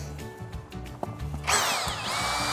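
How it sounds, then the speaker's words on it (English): A drill fitted with a small 4-inch auger bites into potting soil mixed with compost for a garden, starting halfway through as a sudden loud whirring whine over quieter clatter. "Just using the same little 4-inch auger that we have, which has been really nice."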